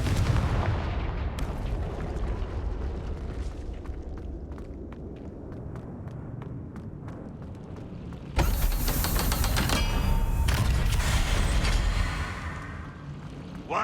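Fire-spell explosions and blasts in the Hogwarts Legacy video game, a steady run of booming impacts and rumble with a louder, denser burst near the end, no talking.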